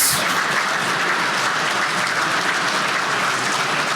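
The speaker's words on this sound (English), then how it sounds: "Can we get a big round of applause" A room full of attendees at a commercial real estate forum in a Hilton hotel applauds loudly and continuously, a thick, even wash of clapping with no pauses and no voices over it.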